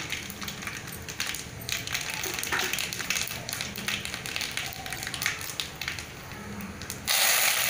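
Mustard seeds splutter in hot cooking oil in a pan for Tamil chicken gravy, giving dense, irregular crackling pops close by. The sizzle is steady throughout with no talk.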